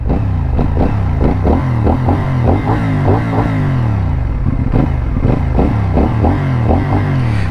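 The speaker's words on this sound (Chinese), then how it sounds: "听这个排气的声浪。" A CFmoto 450NK naked street motorcycle roars close up while riding, its crisp exhaust note pulsing in rapid rhythmic bursts as the rider shifts through gears, loud and steady with no talk.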